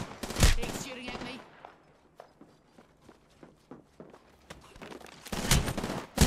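Video game gunfire crackles in bursts at the start and end, with quieter footsteps and scattered shots between them.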